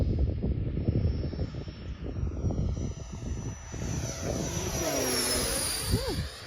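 Flex Innovations F100d RC jet airplane with a thrust tube flying at about half throttle, a steady loud ducted-fan whine that swells with a rising, falling Doppler pitch as it passes close overhead.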